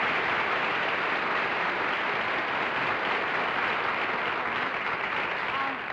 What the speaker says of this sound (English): Well, there was a burst of applause